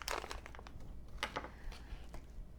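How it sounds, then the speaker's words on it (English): Plastic packaging around a sewing machine presser foot being cut open and handled, giving short crisp crinkles and clicky rustles in quick bursts, close and fairly quiet. "let me cut this out of the package"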